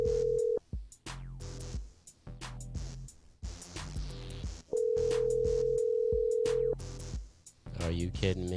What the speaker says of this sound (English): Now, Troy, pick up this goddamn phone